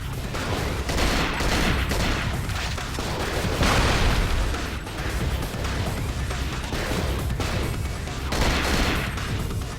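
AK rifle fire in the game Cold Fear, dense bursts of loud rapid gunshots with crashes and booms running throughout.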